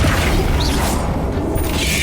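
Bombarda spell explosions in Hogwarts Legacy battling spiders, a dense, loud roar of blasts and rumbling impacts that fills the whole moment without pause.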